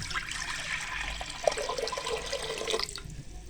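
About 1.5 litres of water poured into a handi cooking pot on a stove, a steady splashing, gurgling stream that thins out near the end.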